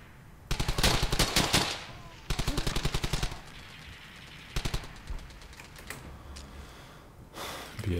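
Bursts of automatic machine gun fire from German MG nests in the World War II shooter Brothers in Arms: Hell's Highway, several rapid strings in the first seconds, then shorter separated bursts, loud and close with quieter gaps between.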